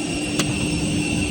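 Steady airliner engine roar heard from inside the cabin during takeoff, loud and continuous with a brief click partway through, no voices.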